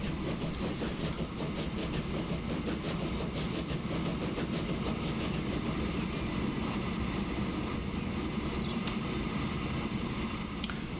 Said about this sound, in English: we'll just watch the train go past